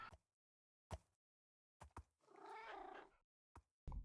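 Minecraft cat in the video game, a few short clipped meows spaced apart with a longer drawn-out meow in the middle, clean and alone against silence.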